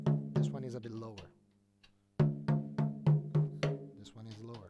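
Snare drumhead tapped with a stick near a tuning screw, giving a steady series of short, close, ringing hits under a voice speaking between them.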